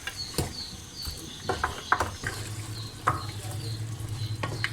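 Chicken karahi, a Pakistani-style curry, fries in oil while a spoon scrapes and clacks against the pan in irregular strokes over a soft, continuous sizzle.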